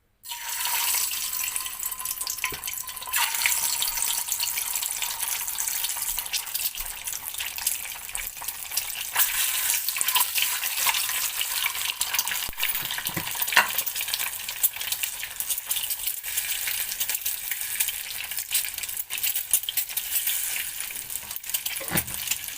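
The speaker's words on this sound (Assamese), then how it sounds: "এতিয়া আমি ইয়াত কণীকেইটা ফ্ৰাই কৰি ল'ম।" Eggs frying in hot oil in a home kitchen pan, a steady bright crackling sizzle that holds evenly throughout with no talking.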